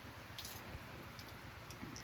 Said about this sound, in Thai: ฝนกำลังตก